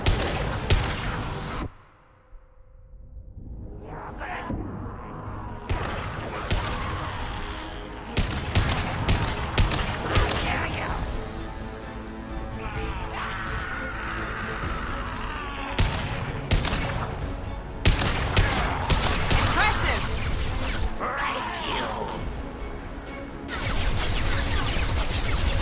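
Gunfire during a firefight in the video game Mass Effect 2, with loud bursts of automatic fire and single shots, a short quiet break, then sustained shooting over sci-fi effects and music.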